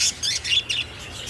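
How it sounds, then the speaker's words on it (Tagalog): Pet lovebirds give a few quick, high, shrill chirps in short bursts, fairly close, over a low steady background hum. "lovebirds"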